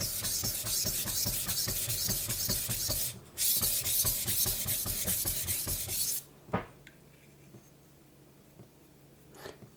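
Rhythmic scraping strokes of a knife blade drawn across a Naniwa whetstone, a run of quick even passes that stops abruptly, followed by a few faint clicks and quiet.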